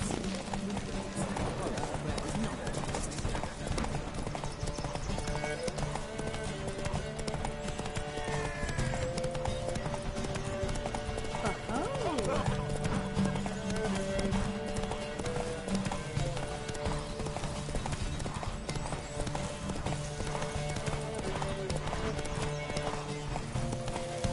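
In The Witcher 3, the horse Roach gallops in a race, its steady clip-clop hoofbeats continuous and prominent. Game music and occasional voices play alongside.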